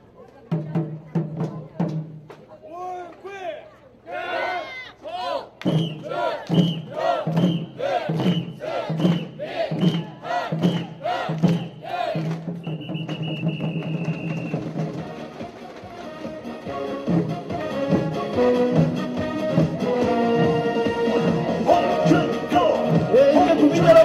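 A crowd at an outdoor Korean presidential election rally for Hong Joon-pyo cheers and chants in bursts over rhythmic music, with voices shouting throughout and a swelling, sustained roar toward the end.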